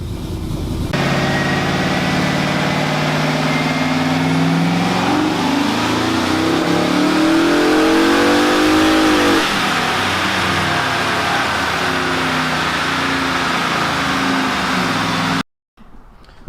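A Ram truck engine revs on a dyno, climbing in pitch through a long pull and then winding back down, loud and close, before cutting out abruptly near the end.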